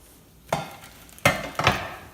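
Kohlrabi strands stirred in a hot sauté pan: a quiet background sizzle is broken by three scraping stirs, each a quick rasping burst, close up.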